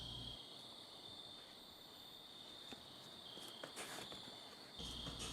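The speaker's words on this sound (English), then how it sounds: "and it's crickets." Crickets chirp in a steady, high-pitched trill among outdoor nature sounds, faint and continuous throughout with slight swells in intensity.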